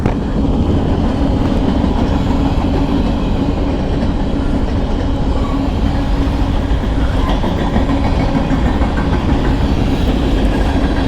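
A train rumbles past close by, a steady loud roar with rhythmic clattering of wheels on rails throughout.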